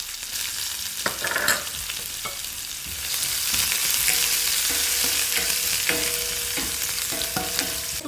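Chopped onions dropped into hot tempered oil with asafoetida in a pan, sizzling and frying steadily while a spoon stirs and scrapes with occasional clinks, the sizzle swelling louder midway.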